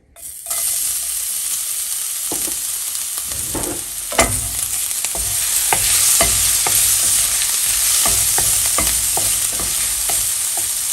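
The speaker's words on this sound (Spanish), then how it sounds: "Vamos a agregar un chorrito de aceite en un sartén y voy a agregar el ajo." Garlic fries in a splash of oil in a pan, sizzling steadily and close up, with repeated sharp scrapes and clicks from stirring throughout.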